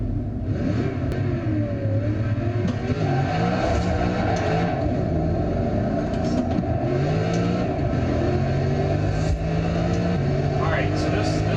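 A Corvette Z06 engine revs steadily in a racing simulator game on a snowy track, a continuous loud drone rising and falling in pitch with throttle, with a voice talking over it throughout.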